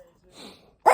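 A dog gives a single short, sharp bark close by at the very end, after a brief quiet stretch with soft low sounds.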